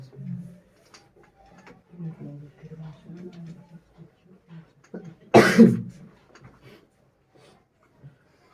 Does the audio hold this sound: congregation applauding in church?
no